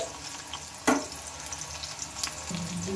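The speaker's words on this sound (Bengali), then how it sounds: "পেঁয়াজটাকে এখন আমি অল্প একটু ভেজে নেব" Onion frying in a small amount of oil, about a spoonful, for a chilli cauliflower dish: a steady soft sizzle with one sharp clatter near the start and a faint scrape later, close by and fairly quiet.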